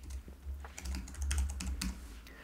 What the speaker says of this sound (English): then I'm going to type